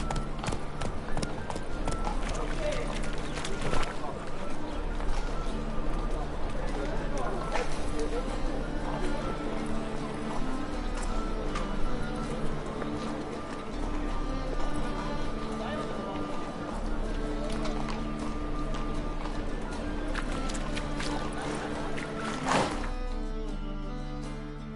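Horse hooves gallop in The Witcher 3, a fairly quiet, rhythmic clopping that runs through the whole stretch beneath steady game music and occasional spoken lines.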